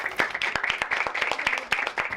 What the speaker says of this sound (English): So give Yesenia a round of applause.